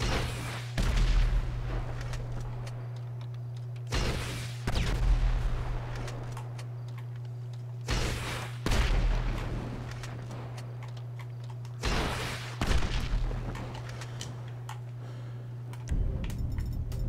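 Gunfire in Grand Theft Auto 5 at the dam: five loud, sharp shots spaced about four seconds apart, each with a booming echoing tail that decays over a steady low hum.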